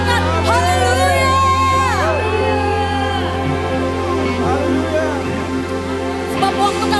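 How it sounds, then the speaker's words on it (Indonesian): A church congregation at a Sunday worship service cheers and shouts together, a loud sustained crowd roar with whoops and high voices over a steady musical drone, swelling at the start and tapering later. "Sorakan haleluya."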